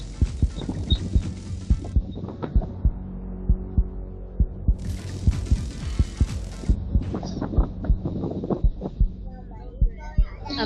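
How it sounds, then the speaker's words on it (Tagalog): A deep, steady heartbeat effect thumps in a regular double-pulse rhythm, loud and close, running throughout a game of flashlight tag alongside hissy bursts of noise. "I hear heartbeat."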